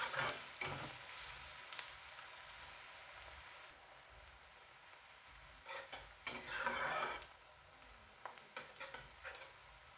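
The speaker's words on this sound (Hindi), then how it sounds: "प्याज को हमें भूनना है जब तक ये हमारा गोल्डन ब्राउन ना हो जाए।" Onions frying toward golden brown in a pan, a faint sizzle under scattered spoon scrapes and clinks as they are stirred, with louder bursts of stirring now and then.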